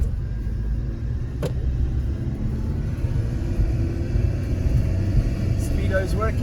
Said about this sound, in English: now we're going to go for our first drive